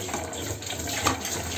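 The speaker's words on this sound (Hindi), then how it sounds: "पानी डाल देंगे" Water poured into a pot of chickpea curry masala, a steady splashing gush with a brief louder surge partway through, close and alone.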